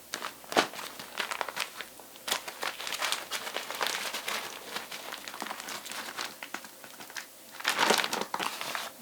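A lightweight Dyneema fabric pouch crinkles and rustles in bursts as it is handled and packed for a backpacking trip, close and fairly loud, with brief pauses between crumpling sounds.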